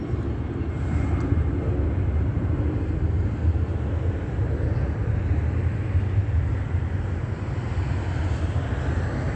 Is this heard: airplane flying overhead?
yes